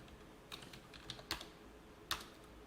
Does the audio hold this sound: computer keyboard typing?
yes